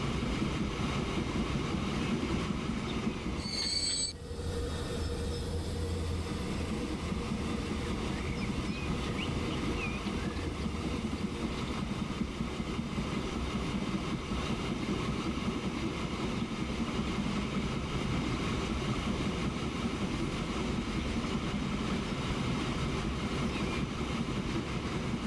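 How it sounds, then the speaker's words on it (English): In the Transport Fever video game, an ore train rolls into a station with a continuous steady rail rumble and engine drone. A brief high chime-like tone sounds near the start. "Let our train come in, fill up with ore."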